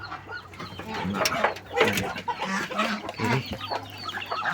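Backyard chickens, including a bantam hen, cluck and squawk in close, irregular bursts, with a steady low hum underneath and a person briefly speaking.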